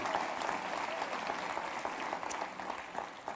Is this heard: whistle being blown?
no